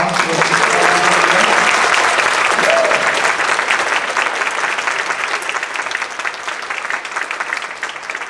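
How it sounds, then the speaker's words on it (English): Audience applause after a sixth-grade middle school concert, loud sustained clapping from a full crowd that gradually thins and fades over several seconds, with no voices over it. "Can we have one more round of applause for"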